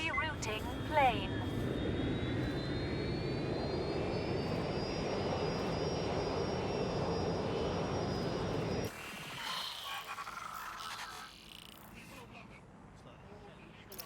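Steady roaring airplane engine drone in the video game Watch Dogs: Legion, loud and continuous for several seconds with a rising whine, then cutting abruptly to quieter game ambience.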